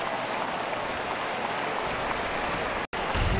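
A Baltimore ballpark crowd claps after a catch, a steady, distant wash of applause that holds evenly throughout, with a brief dropout near the end.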